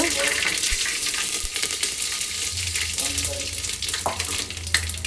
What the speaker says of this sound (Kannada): ನೋಡಿ ಒಗ್ಗರಣೆ ಹಾಕ್ತಾಯಿದ್ದೀನಿ. ಚಿಟಪಟ ಅಂತು.